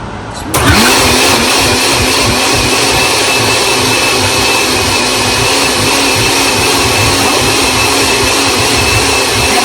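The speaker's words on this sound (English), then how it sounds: "Because we're gonna blend it now." A blender switches on abruptly and purées oats, roaring loudly and evenly with a steady whining motor hum that runs nonstop to the end.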